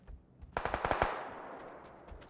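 A rapid burst of about five gunshots from a shooter video game, fairly faint and distant, followed by a trailing rumble and a lone later shot, with no talking.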